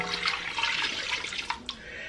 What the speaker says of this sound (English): Now, to that, we are going to add our broth.